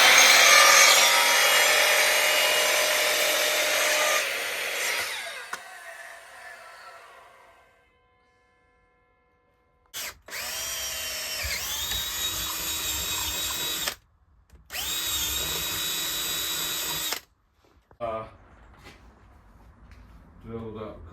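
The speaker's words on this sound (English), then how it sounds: "A nylon bar drilled out to make a bush, as you've just seen there." A nylon bar is cut and drilled out on a workbench to make a bush for a lifted old Suzuki, with loud continuous grinding and whining tool noise in sustained bursts, pausing between passes, and a voice speaking briefly.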